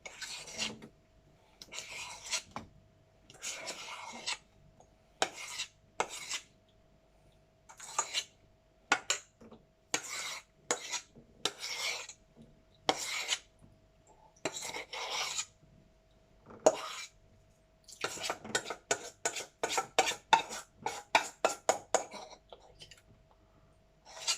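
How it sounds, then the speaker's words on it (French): Spatula scraping apple cake batter out of a mixing bowl in repeated rasping strokes, short bursts that speed up toward the end, close and clear with no talk. "on vient gratter le saladier pour enlever tout ce qu'il y a dedans"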